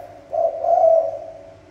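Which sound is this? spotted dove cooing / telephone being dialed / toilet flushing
spotted dove cooing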